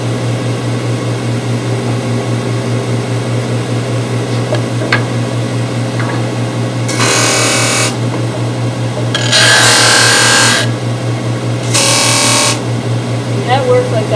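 A stationary sander works a small round wooden piece, heard as three loud bursts of abrasive hiss over a constant machine hum, with quieter gaps between them.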